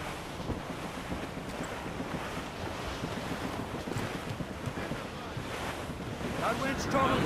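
Cold wind in the Assassin's Creed Rogue game, a continuous blustery rush with surf-like swells that grows louder toward the end.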